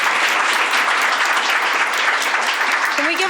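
Loud, dense audience applause at a talk event, steady clapping throughout with a brief voice surfacing at the very end.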